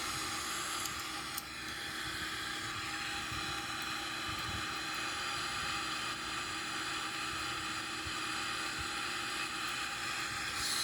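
Boeing 777-300ER taking off and climbing in a flight simulator game: a steady, fairly quiet jet engine roar with broad hiss, holding constant throughout.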